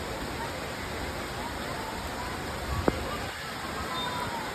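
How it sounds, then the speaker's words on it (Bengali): Heavy rain pours down in Mirpur, Dhaka, a dense, even hiss of falling water that holds steady throughout, with a faint brief knock partway through. "দেখুন কত সুন্দর বৃষ্টি, বৃষ্টি আর বৃষ্টি"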